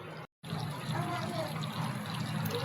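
Water trickles steadily into a pan of cooking aubergine and potato curry, a soft continuous pouring sound at close range.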